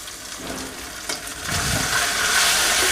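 Tomatoes sizzling and frying in a hot pan for beef curry, soft at first then swelling louder as more goes in, with light stirring scrapes.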